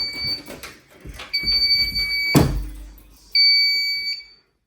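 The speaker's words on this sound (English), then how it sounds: "I have a fire alarm panel that's charging the batteries, that has battery backup" A fire alarm panel running on battery backup after its breaker is switched off emits loud, steady electronic tones in long sustained beeps, with a clunk and some handling noise between them indoors.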